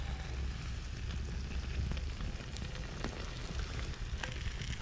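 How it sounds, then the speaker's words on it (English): Fresh homemade butter sizzling in a hot pan at a campsite in Hillsborough River State Park, a steady soft crackle and hiss with occasional pops, faint and continuous without talk. "let's take some of our fresh made butter, dump that in there, season up the pan"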